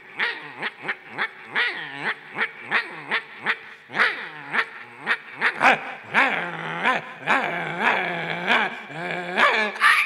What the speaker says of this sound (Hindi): ये तीनों का झगड़ा चालू है, कहां से पिल्ला आ जाता है बच्चा।